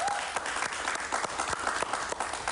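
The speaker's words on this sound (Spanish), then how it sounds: "Es Lupita Ferrero, un aplauso para ella," Studio audience applauding guest actress Lupita Ferrer as she is welcomed onto a TV interview show, a steady dense burst of many hands clapping at once, fairly close and filling the whole moment with no talk over it.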